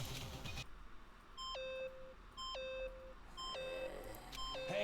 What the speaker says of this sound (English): Stop that goddamn beeping and say something!